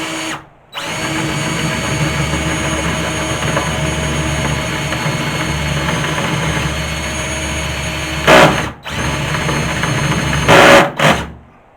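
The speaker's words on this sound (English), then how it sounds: "So first thing we do is drill a hole in it." A power drill bores a hole through a kitchen worktop while a temporary kitchen is being fitted, a loud steady whine running for about eight seconds, then stopping and giving a few short bursts.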